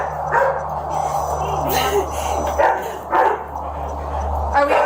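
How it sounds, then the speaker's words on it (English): Several dogs, poodles among them, bark and yip repeatedly in short bursts at moderate distance, with people talking over and between the barks. "You'll hear all them dogs barking and damn poodles."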